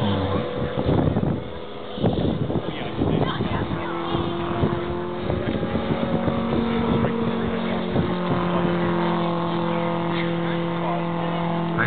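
A Stearman biplane, a military training aircraft, making a slow flyby at an air show, its engine a steady, loud droning rumble with wind buffeting, heard under an announcer's voice on a public address system.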